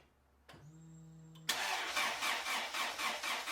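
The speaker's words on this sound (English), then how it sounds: "After cranking the engine over to get the oil flowing, it started up fairly quickly" A Honda B20 engine with VTEC head cranks over on the starter for about a second, then fires and catches on its first start, settling into a loud, steady, slightly pulsing idle.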